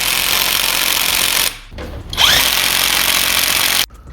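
A power tool whirs loudly and up close while fitting the center nuts during a gearbox replacement on a 2020 MG3, running steadily with a short break and a spin-down before cutting off.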